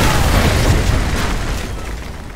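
Danger-close artillery strike in Modern Warfare 2 Remastered, a heavy, loud explosion blast with deep rumbling that rolls on and slowly fades over a couple of seconds, close and overwhelming, with no clear speech.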